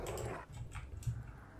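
A dog in the video game Fallout 4 gives a low, rumbling growl mixed with soft whimpering, close and steady across a short stretch with no talk over it.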